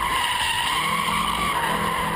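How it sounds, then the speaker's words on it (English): A car slides as its hydraulic emergency brake locks the rear tires, giving a steady, loud tire skid that holds a sustained squealing tone for about two seconds with no break and no talk. "this right here is the hydraulic emergency brake. And what it does is it locks up the back tires to help initiate a slide."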